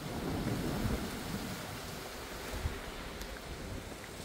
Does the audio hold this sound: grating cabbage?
no